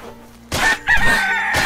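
Game chicken in the creature-building game CHKN crows and clucks in loud, close bursts, a sharp squawking cry breaking in after a brief quiet stretch and followed by further raspy calls.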